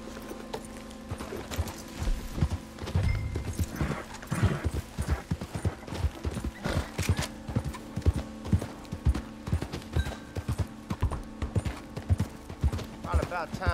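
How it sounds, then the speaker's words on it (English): Horse hooves clip-clop steadily in the video game Red Dead Redemption 2, a quick, even rhythm of fairly close footfalls that runs throughout, with a brief whinny and a voice talking over them. "now my horse appears where I left it the first time"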